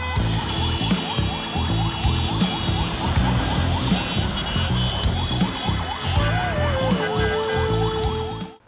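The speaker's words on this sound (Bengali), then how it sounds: "শুনলেন সাইরেন বা ইমার্জেন্সি হর্নের শব্দ" A wailing emergency siren cycles rapidly and steadily over loud rumbling city-street traffic, with a horn-like tone sliding down near the end.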